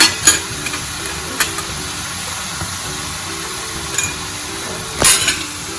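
Spiced greens with garlic, turmeric and asafoetida are stirred in a pan, a continuous sizzle punctuated by a few sharp spoon scrapes and clinks against the metal.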